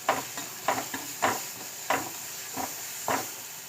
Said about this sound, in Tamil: அந்த தேங்காய் மசாலாவையும் இதோட போட்டுக்கணும்.